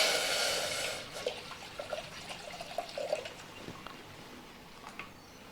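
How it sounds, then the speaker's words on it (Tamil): Water pours steadily into a pot for a moment, then trickles and drips quietly, with faint clinks, nearby and fairly soft. "நான் ஒரு ரெண்டு டம்ளர் தண்ணி ஊற்றிக்கிறேன்"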